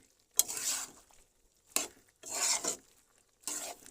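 Hilsa, green banana and potato curry stirred in a pot with a ladle, four separate scraping bursts against the metal broken by short pauses, close and moderately loud.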